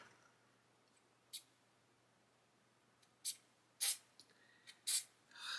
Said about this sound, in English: I hate these aerosol cans, awful things.